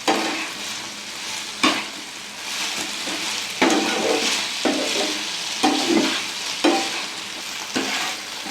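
Chicken 65 being stirred in sauce in a hot frying pan, with steady sizzling and several sharp scraping strokes of the spoon or spatula spread through, loud and close with no talk.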